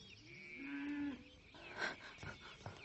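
A calf moos near a house, one drawn-out low bellow followed by a few shorter, rougher calls, fairly close and clear with no talk.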